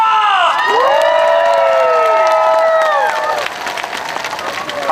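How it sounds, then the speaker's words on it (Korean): A crowd at an outdoor celebration concert in Gunwi, South Korea, cheers and claps loudly, with whoops and shouts sustained throughout before easing slightly near the end. "다시 한번 더 여러분의 박수와 함성!"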